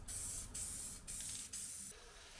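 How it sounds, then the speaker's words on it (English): A spray can applies paint to a Nissan Micra in four quick, even bursts of hissing spray, close and steady, separated by brief gaps. "we're just going to use the spray can itself to kind of blend in"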